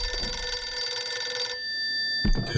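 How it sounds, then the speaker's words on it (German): Telephone ringing inside a house in the horror video game Visage, a loud steady electronic ring with strong tones that cuts off partway, followed by a brief low thump near the end. "Telefon."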